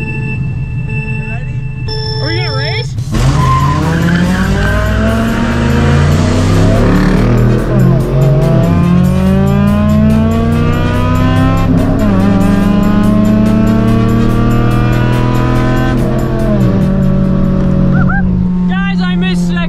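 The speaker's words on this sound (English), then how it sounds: "Oh, the supercharger noise." A supercharged supercar engine revs hard while racing, its pitch climbing and dropping through repeated gear changes with a high supercharger whine, loud and close inside the car, as someone talks briefly at the start.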